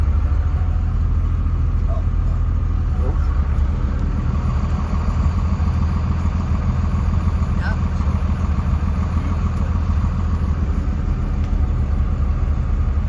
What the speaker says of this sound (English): Best looking traffic jam I've ever been in.